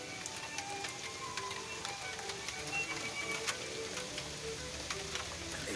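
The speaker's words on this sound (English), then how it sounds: "It's raining." Steady rain falls close by, a soft, constant patter with scattered sharper drops ticking on a surface, moderately quiet and alone without voices.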